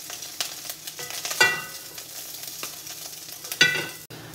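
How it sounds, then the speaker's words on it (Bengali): Boneless chicken stir-fried in a wok in a home kitchen, with a steady sizzling hiss and the scrape and clatter of stirring, sharper bursts near the middle and end, up close and with no voices. "ভেবেছিলাম চিকেনটাকে এয়ার ফ্রায়ারেই বসিয়ে দেবো, তারপর ভাবলাম কড়াইতেই একটুখানি নাড়াচাড়া করবো।"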